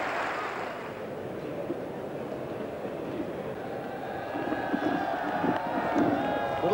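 Cricket crowd at the Basin Reserve in 1992 applauding a century partnership, a broad steady wash of distant clapping and murmur that swells slightly toward the end.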